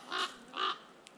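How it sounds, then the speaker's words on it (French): Two loud, harsh crow caws close by, about half a second apart, at the end of the day at a lakeside apiary, with a faint click after them. "Oh corbeau."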